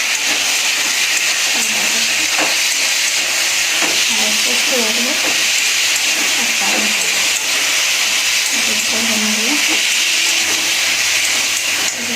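A curry set on to cook and frying in a pan gives a loud, continuous hiss and sizzle. A few indistinct murmurs and short voice-like sounds rise and fade under the steady noise.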